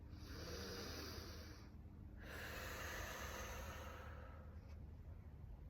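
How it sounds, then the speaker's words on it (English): Deep, slow breaths drawn in through the nose during a guided relaxation exercise, two long airy inhales separated by a short pause, close and quiet with no talking. "So in through the nose first. Nice deep breaths."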